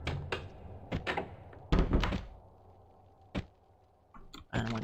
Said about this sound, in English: And when the trapdoor comes back